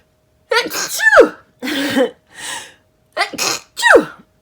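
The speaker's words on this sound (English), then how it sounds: "Oh, hang on, I'm going to sneeze." A single person sneezes twice in quick succession, each with a sharp intake of breath before a loud, close explosive burst, in an otherwise quiet room.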